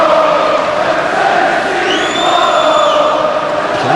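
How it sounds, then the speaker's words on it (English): Everton fans in a stadium during a UEFA Cup match against AE Larissa make a constant, loud roar of crowd noise, a broad, unbroken swell of voices with a brief high whistle-like tone in the middle. "Applause from the Everton fans"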